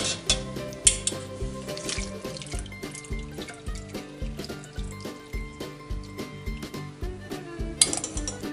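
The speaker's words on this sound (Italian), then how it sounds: "Quando sono cotte andiamo a scolarli." A pot of cooked beans is tipped out to drain in a kitchen sink: water splashes and pours continuously while metal clinks and taps repeat throughout, close and fairly loud.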